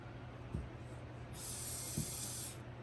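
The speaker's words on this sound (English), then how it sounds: "I got it all glued on and I'm spraying it up." A short, close hiss of aerosol spray misting a doll's glued-on orange fur hair, one burst of about a second with faint handling knocks before it.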